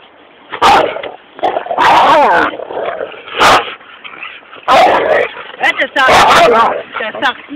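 A dog barks and yips in loud, close bursts with short gaps, mixed with whimpering; people speak between the barks.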